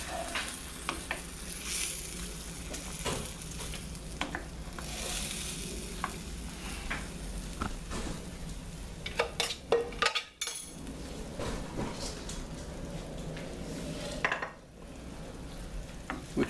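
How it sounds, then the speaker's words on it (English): Mushroom risotto with shiitake and tomato being stirred in a pan: a steady sizzle under repeated scraping and clinking of a spoon against the pan, close and fairly loud, with no talking. "You have to stir it."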